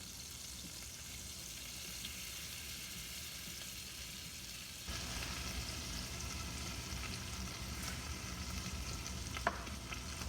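Flour goes into melted butter in a pan and the sizzle jumps louder partway through, a steady bright frying hiss with faint stirring, no voices.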